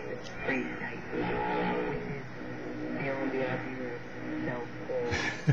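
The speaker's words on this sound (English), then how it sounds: "There sounds like a jammer trying to jam the signal." Shortwave radio reception through an external antenna, carrying a steady hissing, warbling jammer-like noise with faint voices buried in the static, continuous throughout at moderate level.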